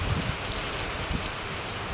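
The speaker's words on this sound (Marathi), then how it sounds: "आणि आज तर खूप मोठी मोठी थेंब आहेत बघा." Steady heavy rain with big drops patters densely on a surface, a continuous hiss of drops with no voices.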